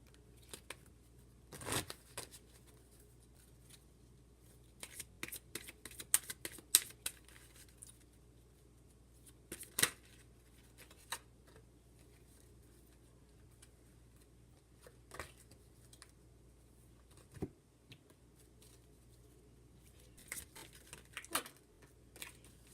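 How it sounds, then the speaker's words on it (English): Tarot cards being shuffled during a reading, sparse clusters of soft riffling and snapping bursts separated by long quiet gaps, close and faint over a low steady hum. "these were all pre-shuffled, but I just wanted to do a quick"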